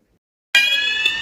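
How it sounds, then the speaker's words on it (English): A fire alarm goes off during a school fire drill, cutting in abruptly from silence with a loud, shrill, continuous ringing tone that holds steady to the end. "What were you doing when the alarm rang?"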